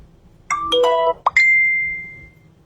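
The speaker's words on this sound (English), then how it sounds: "Why do people always send me notifications when I'm doing videos?" A phone notification plays a short series of bright chiming tones, ending in one sustained ringing note that fades, heard close and clear inside a car with no talking.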